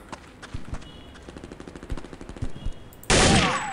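Rapid gunfire in Counter-Strike Condition Zero: a quick run of sharp shots in an uneven rhythm, moderately loud, then a sudden louder burst of noise near the end.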